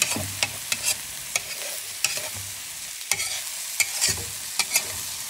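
Eggs being stirred in a hot pan, sharp regular spatula taps and scrapes against the pan over a soft sizzle, close up with no talking.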